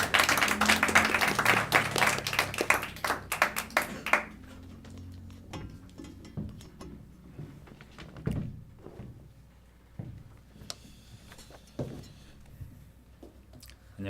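A church congregation at a testimony worship service applauds loudly and densely for about four seconds. Quieter scattered thumps and rustling follow.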